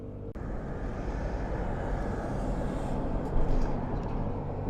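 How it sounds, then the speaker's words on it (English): A passing car on a road, a steady broad engine and tyre rumble that swells slightly and holds loud throughout, with no voices. "Got a security car checking things up here."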